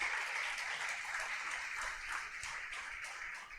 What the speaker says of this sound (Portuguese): Dê um aplauso a Jesus se você é crente.